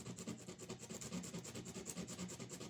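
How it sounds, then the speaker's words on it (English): Sandpaper rubs back and forth over a homemade deep dish wheel in quick, even strokes. The rasping rhythm is soft and close, with no voices. "got my sandpaper here, and I'll just try to whittle it down so that at least it's even"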